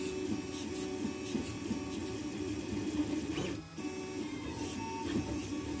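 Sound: 3D printer printing a large support part

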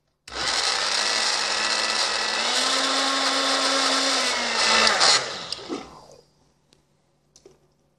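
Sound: blender running

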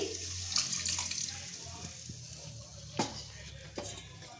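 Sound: pouring water into a mixer jar

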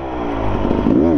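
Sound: KTM enduro motorcycle riding off-road

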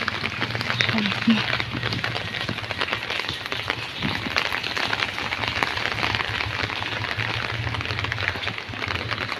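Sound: rain falling

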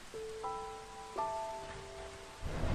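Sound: heavy rain

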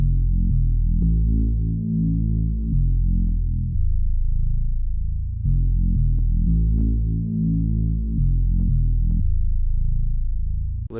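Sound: bouncy bass from a one shot kit

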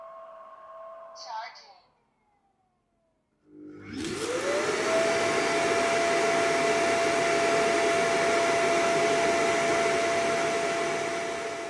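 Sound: robot vacuum dock emptying dust bin

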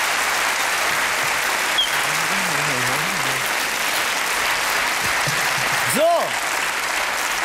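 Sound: studio audience applause

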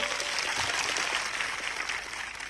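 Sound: crowd applause

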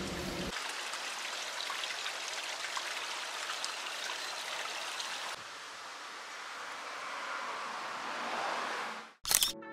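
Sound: water flowing in a backyard garden

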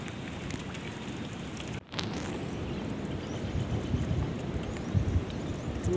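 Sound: rain falling

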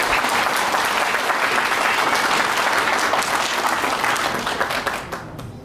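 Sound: wedding guests applauding

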